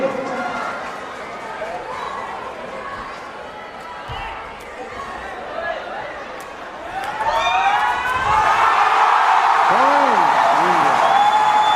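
A crowd at the men's regu final of the ISTAF Sepaktakraw World Cup 2025, Japan vs India, roars and swells into loud sustained cheering in the second half, after a calmer stretch with a commentator talking and scattered shouts.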